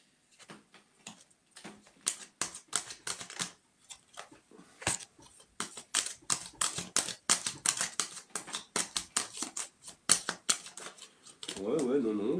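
Tarot cards riffled and cut in quick bursts of crisp flicking and snapping, close and fairly loud, with brief pauses between runs; a voice speaks near the end.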